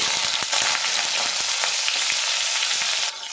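Cut teasel gourd (kakrol) pieces frying in hot mustard oil, a dense steady sizzle with small crackles and the occasional stir-clatter, close and loud, easing off slightly at the end.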